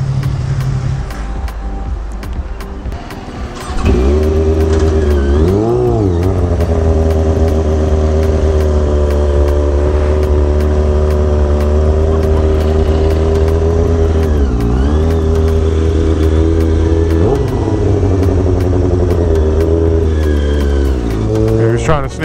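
Powerful sport motorcycles, among them a Ducati Panigale, rev their engines loudly and continuously on a downtown Chicago street during a Mexican Independence Day ride, with rising and falling throttle blips over a steady idle rumble.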